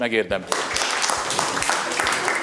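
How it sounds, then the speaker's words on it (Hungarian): A school class in a Hungarian history lesson claps together as a group, with dense, steady applause filling the room after a brief spoken word at the start. "osztály meg egy taps"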